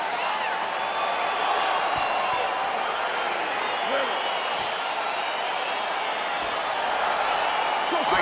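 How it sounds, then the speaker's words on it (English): Virtual arena crowd in the UFC 4 fighting game, a steady dense roar of cheering and whooping at the start of a simulated bout, continuous and full throughout with commentary speech over it. "Crowd getting excited as this fight gets underway"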